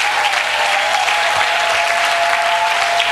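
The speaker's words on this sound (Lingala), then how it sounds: "nous acclamons très fort le Seigneur" A church congregation applauds loudly and steadily, the dense clapping filling the space throughout at full volume, with a raised cheer or two mixed in and a sustained tone running underneath.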